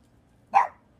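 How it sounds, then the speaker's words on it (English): A dog gives a single short bark at moderate distance behind otherwise quiet surroundings, with no talking over it. "That's Ebony Rose barking in the background."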